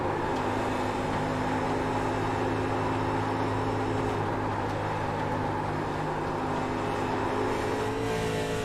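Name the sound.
stock car engine revving in racing video game Vertex Stock Car Cup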